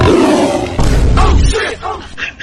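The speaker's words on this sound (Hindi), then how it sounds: "कभी शेर का आवाज आ रहा है" A recorded lion roar played back over a loudspeaker to a gathered group: a couple of loud, rough bursts that trail off into quieter growling tones over a few seconds.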